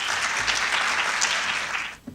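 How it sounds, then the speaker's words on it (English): An audience at an evening public forum on news media and Hollywood gives a round of applause for three panel participants: steady, dense clapping for about two seconds that then stops abruptly. "If we could give a round of applause for our 3 participants"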